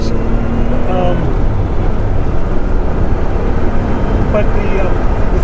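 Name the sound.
1983 Porsche 911 SC Targa 3-liter engine driving slowly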